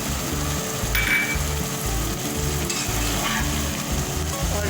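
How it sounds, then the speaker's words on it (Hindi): Chicken chopsuey being stirred and mixed in a hot pan with spices, vinegar and soy sauce, a loud continuous sizzle under rhythmic scraping strokes of a spoon and a few metallic clinks. "अच्छे से जो है वो हम मिक्स कर देंगे।"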